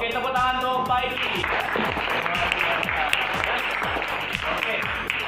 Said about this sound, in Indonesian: Oke, tepuk tangan untuk Paisi.